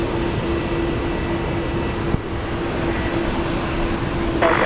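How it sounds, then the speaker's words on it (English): A Fokker 100 jet airliner at Brisbane Airport gives a steady, broadband engine roar with a faint whine, holding level throughout at moderate distance, with no talk. "there's our Fokker 100. Yeah, coming out."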